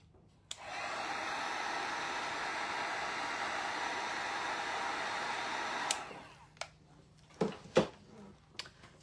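A hair dryer blows steadily on wet stencil paint for a Tic Tac Toe board, a loud, even broadband whoosh for about five seconds before it switches off, followed by a few faint knocks and handling sounds.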